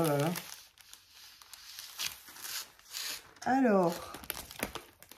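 Envelopes and paper handled and crinkled in a pile of mail, a rustling, crackling texture running through the clip beneath someone speaking in French.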